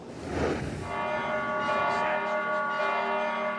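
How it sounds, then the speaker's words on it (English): Church bells ring out in Bethlehem on Christmas, with sustained, overlapping tones that hum and linger, filling the space with a steady metallic resonance. "Church bells ring, but no one's listening."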